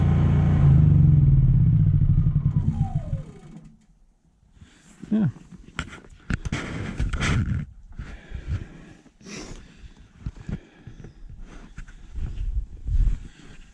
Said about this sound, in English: you can see the generator's going